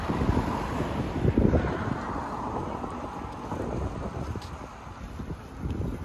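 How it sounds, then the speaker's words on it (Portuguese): Strong wind blows over the Guadalquivir river in Seville, a faint, gusty rumble of wind buffeting the microphone, with a louder gust midway. "Não sei se vocês estão ouvindo, mas está ventando bastante."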